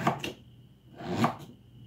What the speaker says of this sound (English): we're going to cut them up in smaller pieces and just put them in the blender like this